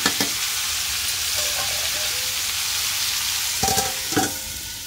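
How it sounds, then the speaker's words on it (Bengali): Drumstick (sajne) stems frying with mustard in a pan for a chochchori: a loud, steady sizzling hiss with a few clinks and scrapes of stirring near the end, no talking. "তো চচ্চড়ি তো বসিয়ে দিয়েছি, আর একটু ঢাকা দিয়ে ভেজে নিচ্ছি"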